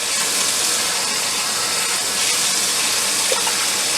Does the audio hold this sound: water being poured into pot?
yes